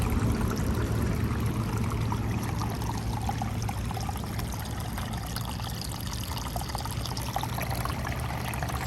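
Water pours steadily into garden soil in a pot or bed edged with bricks. A constant, close, rushing trickle runs for the full nine seconds, and no voices are heard.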